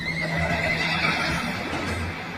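Wild Mongolian horses neigh in a continuous, fairly loud whinny over a steady outdoor background, with no talking heard.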